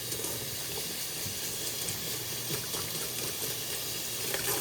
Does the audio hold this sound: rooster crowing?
no